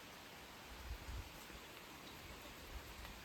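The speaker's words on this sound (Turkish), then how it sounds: "Yağmurlu bir gün." Steady rain falls on a wet village day, a soft, even hiss of drops with a few low thumps, fairly quiet and continuous with no one talking.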